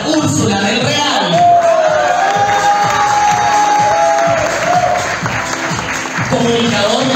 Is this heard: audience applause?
yes